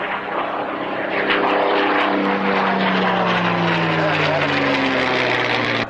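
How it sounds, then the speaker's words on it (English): The Boeing B-17G bomber Sally B flies at the Duxford airshow, its four piston engines and propellers making a loud throbbing drone as it passes close, with the pitch dropping as it moves away and a commentator speaking over it. "the beloved Sally B, B-17, B-17G, flown by Keith Sissons."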